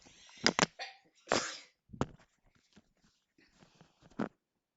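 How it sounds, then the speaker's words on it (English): A few sharp, noisy bursts of breath, like a sneeze with catching inhales around it, close to the microphone, with no talking. "Hold on a second, I gotta sneeze."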